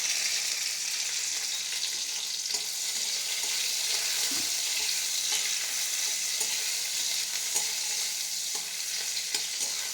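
Crushed garlic frying in a pan for a Bangladeshi bhorta, a steady hissing sizzle of hot oil with occasional scrapes and taps of a spoon stirring, close and continuous with no talking.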